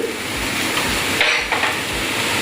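A fish patty mixture is stirred in a hot pan, with a continuous sizzle over rhythmic low scraping thumps about every half second. It sounds close and fairly loud, with no voices.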